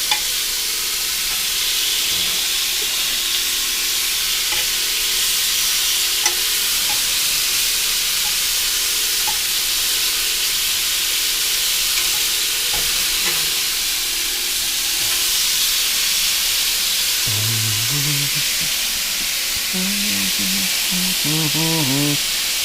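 Lamb chops sizzle and hiss steadily in a hot, heat-retaining pan on the stove, a constant frying crackle with occasional stirring or shifting noises and brief tonal squeaks near the end.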